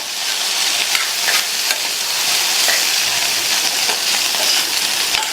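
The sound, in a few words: stirring beans poriyal with coconut mixture in pan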